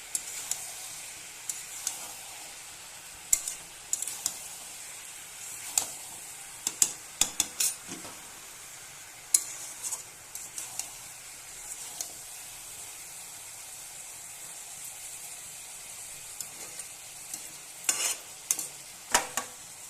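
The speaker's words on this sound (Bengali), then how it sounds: "মাটনটা ফুটে গেছে। ভালোভাবে নেড়ে নেব।" A spoon stirs boiling mutton curry in a pot, scraping and clinking in quick irregular bursts over a soft steady bubbling hiss, quiet and close.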